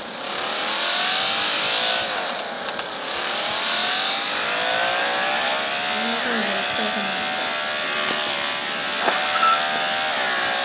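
A motorbike engine in the Traffic Rider video game revs continuously and close up, its pitch climbing and falling in smooth sweeps as the bike speeds up and slows over the whole stretch.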